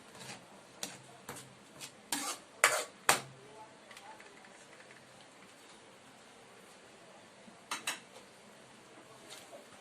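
Hawaiian macaroni spaghetti being mixed with liver spread, a utensil clinking sharply against a pot or bowl in a short cluster of knocks, then a pause and two more, close, over faint background noise.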